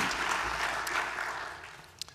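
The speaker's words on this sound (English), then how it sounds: "let's give that group a big round of applause." Conference audience at a 2012 keynote in Chicago gives a round of applause, a dense steady patter of clapping that swells slightly and fades out over about two seconds, with no talk over it.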